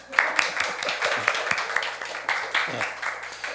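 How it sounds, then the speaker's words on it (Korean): A congregation at a Korean Sunday church service claps and applauds in quick, uneven bursts, a lively patter of many hands with some voices mixed in. "좀 더 힘차게 박수 쳐주세요."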